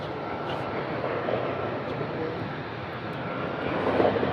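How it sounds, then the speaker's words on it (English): Airliners arriving at Munich Airport make a distant, continuous roar of engines that swells slightly toward the end, a broad outdoor rumble with no clear voices. "I can actually hear the planes arriving before I can actually see them"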